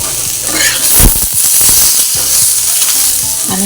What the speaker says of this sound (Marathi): त्याच्यातच टॉमॅटो टाकणार आहे. आणि आलं घेणार आहे, हे त्याच्यात भाजून घेते.